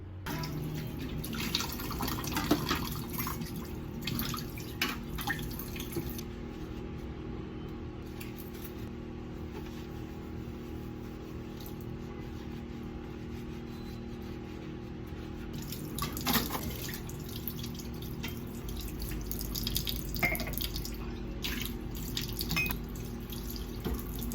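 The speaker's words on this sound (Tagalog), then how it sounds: "Ngayon po ay huhugasan ko na po yung mga pinagkapihan ko po." Running tap water at a kitchen sink while coffee cups and dishes are washed, a steady close splash with occasional clinks and drips, no talking.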